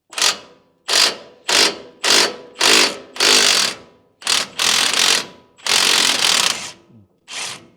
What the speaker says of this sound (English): I got my pitman arm puller on here, and I'm all ready with my socket. So let's take it off.